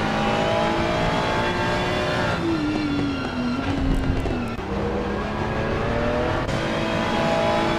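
Ferrari race car from the racing game Assetto Corsa Competizione at Silverstone, engine droning loud and constant with a pitch that dips and wavers midway, no talk.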